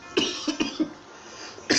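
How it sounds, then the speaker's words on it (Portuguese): A few short, sharp coughs from one person close by, spaced irregularly with quiet gaps between them. "Me perdoem a tosse"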